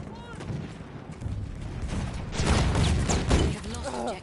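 Gunfire and a grenade blast crackle across a Battlefield 1 battlefield, sustained loud bursts with shouting voices mixed in throughout.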